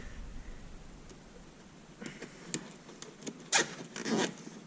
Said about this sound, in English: I'm just gonna run a zip tie in here, zip tie through there.